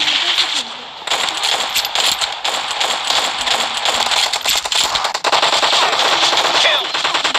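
Rapid bursts of shotgun and automatic gunfire from the battle royale game PUBG, loud and dense, firing almost continuously in a team deathmatch with brief gaps.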